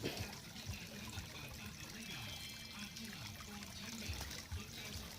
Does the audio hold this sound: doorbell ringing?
no